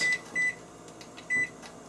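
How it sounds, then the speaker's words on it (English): Kitchen timer being set, giving a few short, sharp electronic beeps in quick succession, close and clear, with quiet gaps between them. "Finally set your kitchen timer for 35 minutes."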